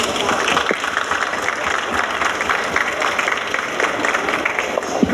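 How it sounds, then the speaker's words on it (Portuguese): A seated audience at a science panel claps for a professor: dense, steady applause that fills the whole stretch at an even level, with no pause. "Palmas para a professora."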